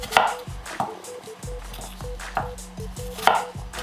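Knife chopping apples on a cutting board: a steady series of sharp, close wooden knocks, roughly one every half second, with no talking.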